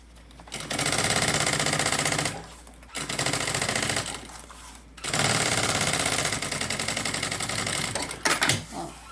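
Loud, close sewing machine stitching runs along a backpack lining in three long rapid bursts separated by brief pauses, ending in a few short stuttering stitches.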